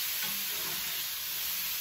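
Onions and celery frying in a pot with a little fat as the base for a northern bean soup, giving a steady, quiet sizzle that holds evenly throughout with no voices.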